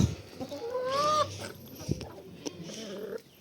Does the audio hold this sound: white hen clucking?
yes